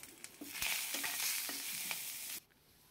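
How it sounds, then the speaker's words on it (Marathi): Garlic and turmeric fry in a pan, giving a close, even sizzle with a few soft stirring knocks before it cuts off abruptly near the end. "लसूण छान थोडा लालसर होईपर्यंत परतून घ्यायचा"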